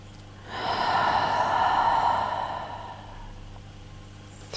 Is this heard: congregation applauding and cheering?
no